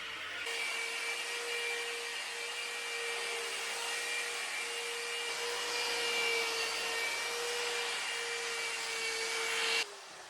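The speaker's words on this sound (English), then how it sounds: "then we move on to a 3-stage machine polish" A polishing machine runs continuously over the clear coat of a Porsche 987 Cayman S during a 3-stage machine polish, a steady whirring hum with a constant tone that stops abruptly near the end.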